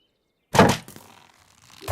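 Arrows striking in Minecraft hardcore land as a pair of hard, close thunks, one then a brief fading rattle, with a second impact arriving about 1.4 seconds later.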